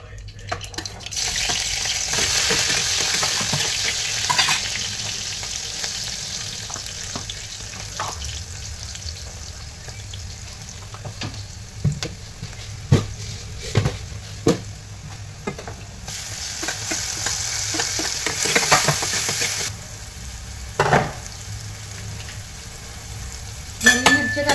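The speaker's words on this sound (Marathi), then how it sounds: "तेल टाकलेलं आहे कढईमध्ये, मोहरी टाकूया." Mustard seeds, tomato and green chilli go into hot oil in a kadhai, giving a loud hissing sizzle with crackles and pops, swelling in bursts over a steady background of frying.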